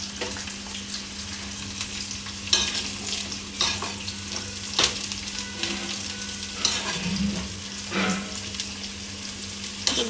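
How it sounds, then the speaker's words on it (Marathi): Shredded cabbage for veg biryani stir-frying in a pot over high gas, a continuous close sizzle and hiss with occasional stirring scrapes and clatters, no voices. "2 मिनिटांसाठी परतून घ्यायचं।"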